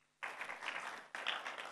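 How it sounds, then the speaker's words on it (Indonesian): Brief applause at a church sermon as a congregation claps for a young girl, two short bursts of clapping after a moment of silence, fairly faint. "kasih tepuk tangan buat Cirara"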